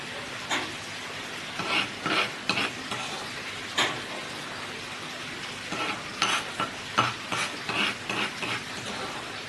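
Ground spice paste with palm sugar stirred in a hot pan for chicken pempek, a gentle sizzle broken by repeated scraping strokes of a spoon, close and moderate.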